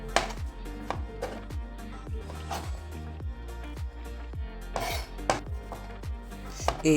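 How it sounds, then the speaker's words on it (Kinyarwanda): A knife chops vegetables such as onion and tomatoes on a board in a home kitchen, with steady, evenly spaced strokes repeating over a faint tonal background hum. "reka dukate ibizindi mboga dukenera izindi ingredients"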